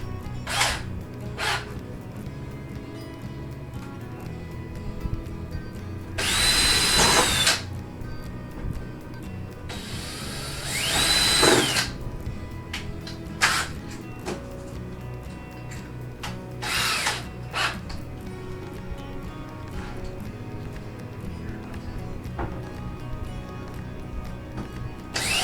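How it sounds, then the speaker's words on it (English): A power drill whirs in two sustained bursts drilling pilot holes, with a few short spins and clicks before, between and after, close by in a quiet room. "drill the other two pilot holes."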